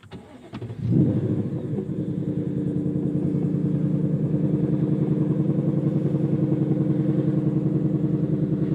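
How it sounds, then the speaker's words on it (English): A 2024 Ford Mustang Dark Horse fires up in its default loud start mode: a brief starter crank, then a sharp revving flare settling into a loud, steady, deep rumbling idle that holds to the end with no talk. "let's go ahead and start it up"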